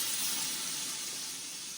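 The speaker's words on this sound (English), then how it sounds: "I know y'all hear that sizzle." Shrimp sizzling in a hot pan, giving a steady, bright frying hiss that holds evenly throughout at close range, with no talking over it.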